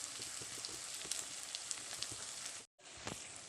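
An egg sizzles in a hot pan on a gas stove in a home kitchen, a steady bright crackle and spatter with small pops, broken by a brief silence before the frying continues.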